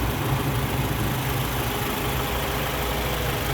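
Toyota Camry 2.0 G VVTi engine from a 2009 car idling steadily, a smooth continuous hum and low rumble with no change in pitch, heard close up throughout.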